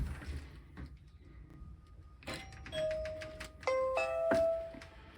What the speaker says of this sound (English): Let's open the door and see if we can hear the doorbell.